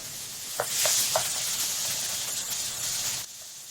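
Chopped onions sautéing in a pan hiss and sizzle steadily and close, with several light stirring clicks early on and a brief dip in the sound near the end, no talking.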